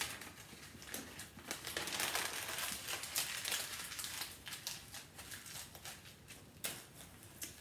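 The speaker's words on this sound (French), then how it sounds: "Si vous entendez du papier derrière, c'est mon assistante de petite boule de papier cadeau." Gift wrapping paper crinkles and crumples close by in irregular bursts that grow busier, then thin out into scattered rustles, with no speech.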